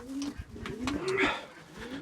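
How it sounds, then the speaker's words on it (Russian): A young pigeon coos close by in a few soft, warbling pulses that swell and fade over a couple of seconds. "Вот он голубь."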